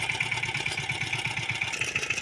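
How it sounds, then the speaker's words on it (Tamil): A fishing boat's engine running at a shore-based fishing area, a steady rhythmic chugging idle with a continuous mid-pitched drone, close and moderately loud, with no voices. "இன்ஜின் அடிக்க ஆரம்பித்தாச்சு"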